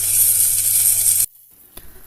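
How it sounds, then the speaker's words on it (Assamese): Sticky rice frying with ghee, cashews and cardamom in a pressure cooker, a loud bright sizzle held steady for about a second before cutting off abruptly, leaving near silence with one faint tap. "আৰু চাউলখিনি দিয়াৰ পাছতো অকণমান সময় ভালদৰে ভাজি ল'ম"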